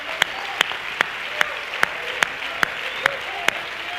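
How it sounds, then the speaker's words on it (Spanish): A church congregation applauds steadily, a dense wash of clapping with louder rhythmic claps striking at a regular beat throughout. "Denle una ofrenda de aplausos al Señor."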